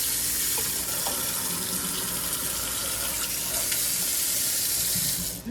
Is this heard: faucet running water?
yes